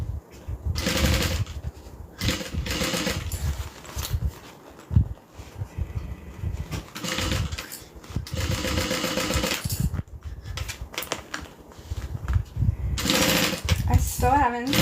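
A sewing machine works on a custom order in short, rapid bursts broken by pauses, with someone talking between and over the stitching runs.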